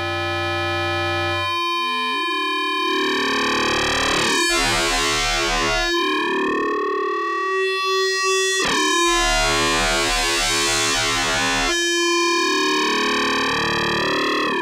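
Synth module patch with a wave folder running in parallel with a distortion, giving loud, buzzing, harmonically rich tones that sweep and morph in two long swells separated by brief gaps, with no voices.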